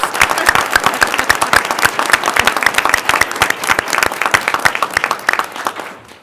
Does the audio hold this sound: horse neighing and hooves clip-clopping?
no